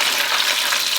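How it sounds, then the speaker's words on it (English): Food fries in hot oil in a home kitchen, a loud, dense, continuous sizzling hiss with no voices. "they're frying"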